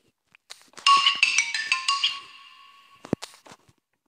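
A phone ringtone plays a bright, melodic tune for about a second and a half during a Minicraft game session, followed by a few short clicks and taps.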